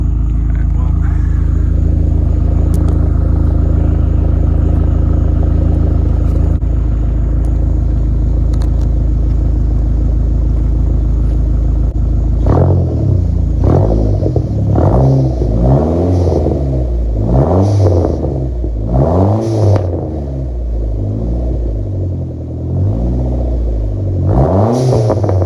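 A car engine idles with a steady low hum, then is revved hard several times in a row, each loud rising and falling sweep coming close and strong over the rumble.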